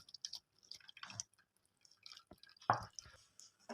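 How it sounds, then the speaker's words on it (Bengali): Water drips and drains from freshly made chhena, a cottage cheese curdled with lemon juice, as it is squeezed in a clean cloth. Soft, close, irregular drips and small splashes come in scattered bursts. "আমি একটা পরিষ্কার কাপড়ে ছানাটা একটুখানি জলটা ঝরিয়ে নেবো।"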